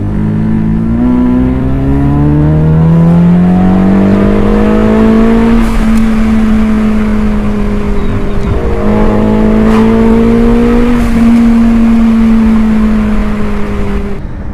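A Ford Mustang EcoBoost with an aftermarket exhaust drives at a steady cruise, its loud, close droning engine note rising through gear pulls and easing between shifts, heard from inside the car with no talk.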